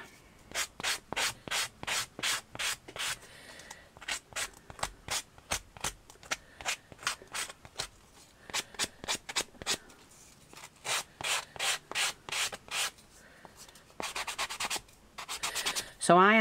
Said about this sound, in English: Now, I have my sanding block.